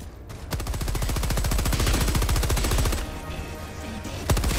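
A weapon fires in Helldivers 2 in a loud, steady automatic stream of closely spaced shots for most of the clip. It pauses briefly near three seconds, and one last sharp shot comes near the end.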